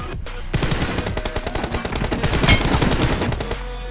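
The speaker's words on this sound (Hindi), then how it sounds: "इतनी गोली मारी है अभी यहाँ पे।" Rapid automatic gunfire in a 1v1 team deathmatch video game shooter, dense bursts of shots firing continuously for several seconds, loud and close, with no talk over it.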